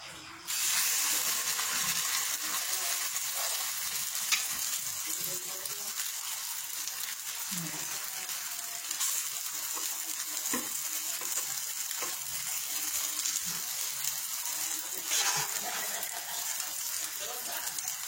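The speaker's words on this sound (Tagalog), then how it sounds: "mainit na yung mantika. Pwede na natin naglagay yung ating tortang noodles" Tortang noodles go into hot cooking oil, setting off a loud, continuous sizzle that holds steady throughout with a few faint bubbling pops and spatters, close and dominant.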